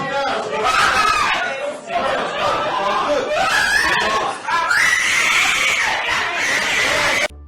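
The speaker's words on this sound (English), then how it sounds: "His sister screamed so loudly, it shook the courtroom." A woman, the sister of a defendant, screams loudly and at length in a courtroom, her wailing cries rising and breaking over several seconds amid agitated voices.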